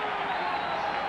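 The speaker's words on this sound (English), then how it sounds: "the crowd starts up early" Stadium crowd at a 1991 Jets at Seattle football game, a steady, loud roar of cheering with no letup across the brief moment.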